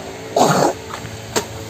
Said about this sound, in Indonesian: Batuk-batuk ini.